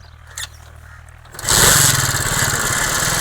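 A small motorcycle engine catches after a brief click and settles into a loud, steady buzzing idle close by.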